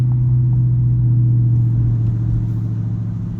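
A 2019 Dodge Charger R/T with Black Widow mufflers idles in a deep, steady, loud exhaust rumble that holds at one even drone for a few seconds, easing off slightly near the end.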